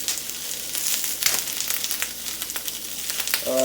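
Vegetables sizzle and crackle as they are stirred in a hot pan for ramen yaki-style noodles, with scraping stir strokes over a steady fry; no talking.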